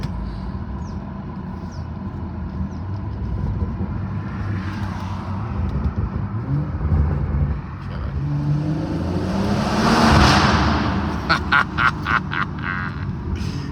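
A BMW M140i Shadow Edition accelerates hard inside a tunnel: a loud, continuous engine roar that swells and echoes, with cabin rumble throughout and a few sharp clicks near the end.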